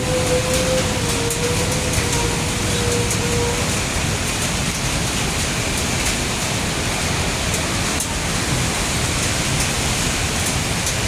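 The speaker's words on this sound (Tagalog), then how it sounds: "May araw, pero umulan." Steady, dense rainfall hisses continuously with no break, loud and close, like a heavy downpour on a hard surface.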